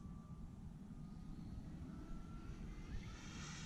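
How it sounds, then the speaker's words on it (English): An RC aerobatic F3A model airplane flies a stall turn, its electric motor a moderate, steady drone from a distance that swells slightly toward the end. "We perform a stall turn now."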